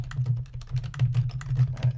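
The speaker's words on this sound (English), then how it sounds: "sorry about the typing" Rapid clattering keystrokes on a computer keyboard, close and fairly loud, in uneven bursts with a low steady hum underneath.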